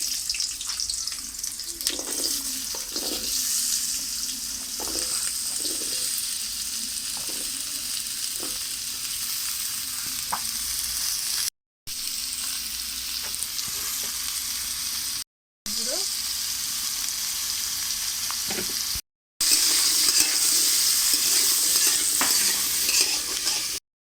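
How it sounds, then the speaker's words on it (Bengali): Cut potatoes frying in white oil in a wok, a continuous close sizzle with repeated clattering stirs early on, then steadier crackling frying, with no talk. "এবার কেটে রাখা আলু দিয়ে দেব।"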